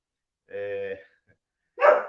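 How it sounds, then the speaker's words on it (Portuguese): A dog at home gives two close barks in an otherwise quiet room: first a sustained, tonal bark, then after a short pause a second, shorter and louder one. "que vocês estão escutando nada mais é do que o nosso cachorro que resolveu atrapalhar nossa aula"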